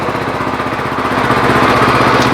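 A Weima WM1100C-6 walk-behind tractor engine runs steadily close by as the machine reverses, giving a loud, even chugging drone with a rapid pulsing rhythm throughout.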